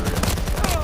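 Gunfire in the shooter game Battlefield 2042 rattles out in rapid repeated cracks, a short fusillade of close, punchy shots.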